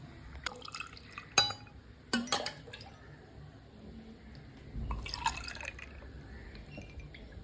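Liquid, a homemade rose milk, poured into an ice cube tray, with soft trickling, drips and several light clinks of container against tray, fairly close and faint, with no talk.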